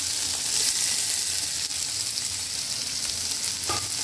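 Grated coconut with cumin and coriander powder sizzles and fries steadily in a pan for a Bengali-style khichuri, a continuous close hiss with occasional faint stirring scrapes and no talk.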